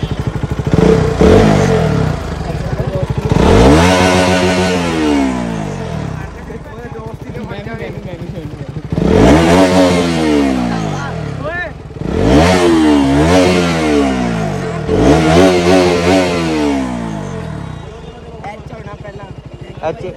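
Motorcycle engine revving hard in repeated bursts, rising and falling in pitch, with loud people talking and shouting throughout.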